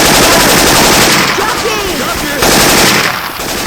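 Rapid automatic gunfire from Syphon Filter weapon sounds swapped into the zombie shooter Left 4 Dead 2, loud and continuous throughout with dense bursts and a brief dip near the end.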